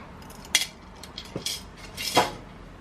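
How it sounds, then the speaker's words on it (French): Coins clink as they drop into a budget envelope: a few sharp, close metallic clicks and jingles, quiet and spaced apart. "Dites-moi si le bruit des pièces vous plaît"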